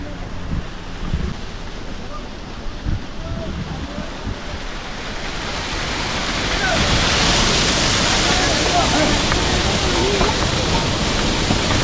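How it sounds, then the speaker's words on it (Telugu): A small waterfall beside the Kedarnath trekking trail, in heavy rain, makes a loud, steady rushing roar that swells and grows fuller about halfway through. "దారి మధ్యలో ఇంకొక వాటర్ ఫాల్,"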